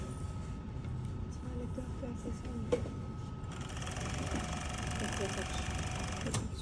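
A sewing machine stitches fabric with a steady mechanical whir, a little louder in the latter half, while a person talks over it.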